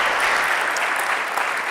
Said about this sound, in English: Round of applause for Psicólogo